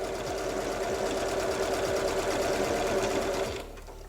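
A sewing machine runs steadily, stitching straight quilting lines spaced six centimeters apart: a fast, even mechanical whir with rapid needle ticking, close and continuous, that winds down just before the end.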